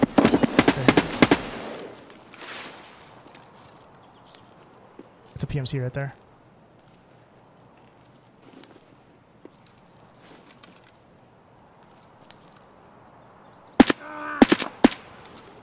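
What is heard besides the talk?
gunfire from another player in the video game Escape from Tarkov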